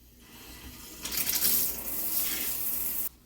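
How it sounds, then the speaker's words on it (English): Kitchen sink faucet turned on after a sink replacement, water gushing steadily into the basin for about two seconds before shutting off abruptly, loud and close with no talking. "we're going to turn the water on"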